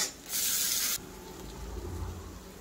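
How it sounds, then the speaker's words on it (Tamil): Chopped onion, tomato and curry leaves hit a hot pan with a loud, close sizzling hiss that lasts under a second, then settle into a quiet, low frying murmur. "இப்போ வெங்காயம், தக்காளி அப்புறம் கருவேப்பிலை நல்லா வறுபடட்டும்"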